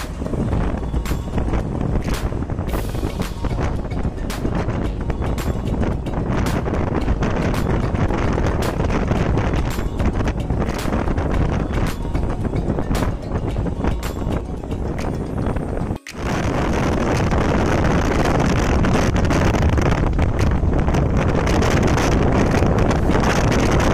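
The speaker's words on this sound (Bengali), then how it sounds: "বাইরের বাতাসের শব্দটা কেন তোমাদেরকে শোনাবো না?" Heavy, steady wind roar buffets the microphone while riding a motorbike over the Mayor Hanif flyover, loud and continuous with a brief dropout partway, no voices.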